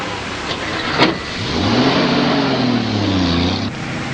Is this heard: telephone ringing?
no